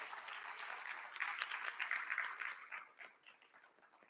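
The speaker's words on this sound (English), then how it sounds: "Join me in a big round of applause for the members who made today successful." Indoor audience at a nursing pinning ceremony gives a round of applause, a soft, dense patter of many hands that swells in the middle and gradually thins out toward the end, heard from a distance.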